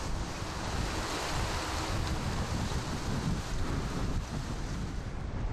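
Strong wind roars steadily across an open golf course at the Egyptian Open, a constant loud broadband rush buffeting the microphone with no voices.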